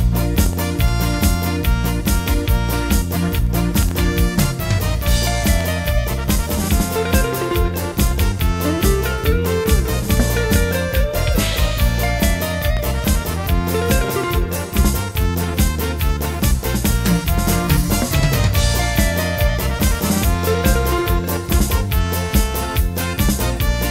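A brass band plays a bright, loud diana fanfare with steady drums underneath at a San Francisco de Asis festival in Huañacota, full and continuous throughout without any pauses.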